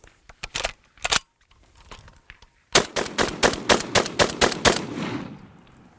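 A machine gun is fired from the hip in short bursts: a few quick loud shots, a pause, then a rapid string of about nine cracks, each ringing off.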